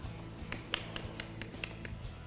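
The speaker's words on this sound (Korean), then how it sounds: "이렇게 말이 끝나자마자 무섭게 주변에서 박수 소리가 나오네요" After a player's interview at the LG Cup professional Go (baduk) tournament, scattered handclaps sound around a quiet room, about a dozen sharp, separate claps at an uneven pace, faint and somewhat distant.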